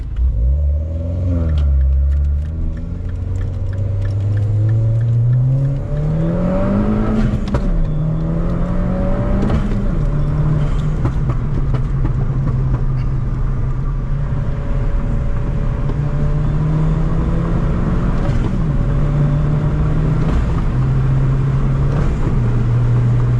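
2013 MINI JCW GP2 fitted with a CAE Ultra Shifter driven hard, the engine revving up loudly and dropping at each quick gear change, several shifts in a row heard close from inside the car, with no talking.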